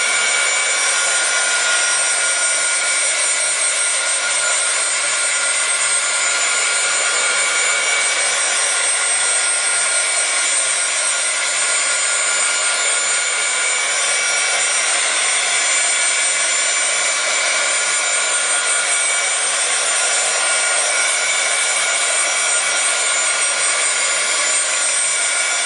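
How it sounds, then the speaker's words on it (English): A hair dryer blowing steadily to dry glued napkin craft work on a repurposed book cover, a loud, close, continuous whooshing whir with no pauses. "I apologize if the noise from that dryer bothers anybody."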